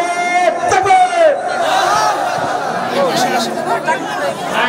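A large crowd at a religious gathering roars a loud, sustained takbir response in unison, many voices shouting together as one swelling chant that carries through the whole stretch.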